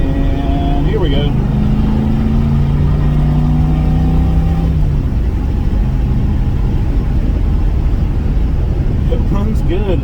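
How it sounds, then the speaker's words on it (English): A 1978 Pontiac Trans Am with a 400 engine and four-speed, WS6/W72 package, pulls hard in third gear with a loud, rising engine drone that climbs steadily then drops off, steady road rumble beneath and voices heard over it. "Do a little third gear pull here real quick."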